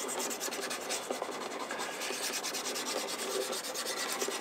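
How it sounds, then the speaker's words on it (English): A hard object, such as a screwdriver, is rubbed along a handmade wooden violin neck to smooth it, making a close, continuous rasping scrape with a quick back-and-forth rhythm and no voices. "you can use a screwdriver, you can use anything which is hard to make it smooth."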